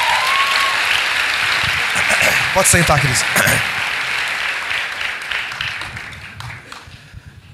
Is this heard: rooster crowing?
no